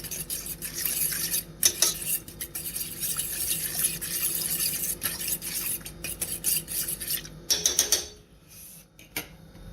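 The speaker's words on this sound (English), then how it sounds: "I'm just going to give that a little stir up there" A spoon stirs sugar into a drink, scraping and clinking against the cup in quick, close repeated strokes that stop briefly near the end.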